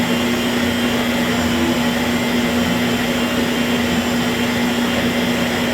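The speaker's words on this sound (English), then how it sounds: "And just let the blender does it." A blender runs steadily, mixing all-purpose organic flour into turkey gravy, giving a loud, close, unbroken motor whir with a constant hum that lasts throughout, with no talking.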